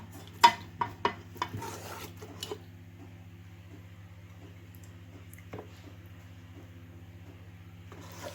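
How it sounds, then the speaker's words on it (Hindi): Mutton karahi being served from a pan, with a few sharp clinks and scrapes of a spoon on metal over the first two seconds and one more later, all over a steady low hum. "अब हम इसे कर लेंगे डिश आउट।"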